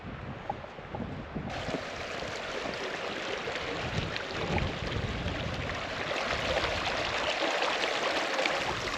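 Rushing mountain river flowing below a hiking trail on Australia's highest mountain, a steady broadband roar of water with some wind buffeting the microphone, continuous and fairly loud throughout.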